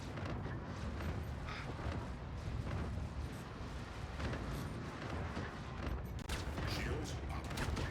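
Gunfire striking a ship's shields in the space game Star Citizen during bounty hunting, a dense continuous rumble of shots and impacts that keeps up steadily throughout.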